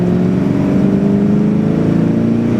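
A supercharged Saleen S281 accelerates hard in third gear, its engine note holding a loud, steady drone that rises slightly in pitch throughout, close up from inside the car with no talking.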